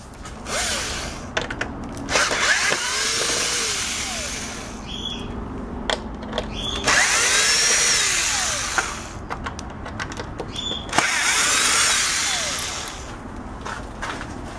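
A power drill backs screws out of a Hoover U6252-910 vacuum cleaner housing, whirring in several short bursts with pitch sweeps, close and fairly loud, with clicks and handling noise between runs.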